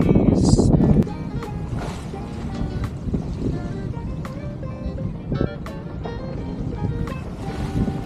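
A catamaran under sail in steady wind of about 13 to 16 knots off the Croatian coast, with water rushing and splashing continuously against the hulls, wind buffeting nearby, and faint voices now and then.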